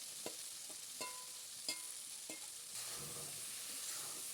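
Plums stirred in a wok of hot mustard oil with five-spice and dried chillies, a steady sizzle of frying broken by several sharp scrapes and clacks of the stirring spoon, close and fairly loud throughout.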